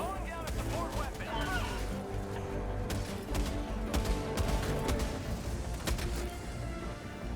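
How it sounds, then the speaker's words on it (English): A heavy machine gun fires in the shooter game Helldivers 2, with dense rapid bursts and booming impacts in a chaotic battle mix while a voice talks over the top. "the heavy machine gun handles them well"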